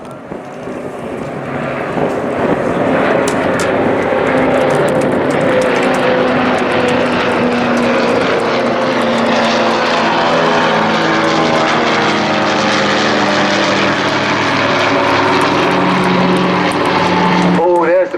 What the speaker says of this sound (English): The Spitfire and the Hurricane will break, and the Dakota will fly over the top of you.